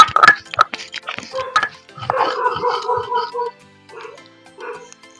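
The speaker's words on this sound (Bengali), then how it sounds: "ডাকতেছে কুকুরি" A dog barks and yips in short bursts at close range, followed by softer whimpering calls, with a person speaking in between.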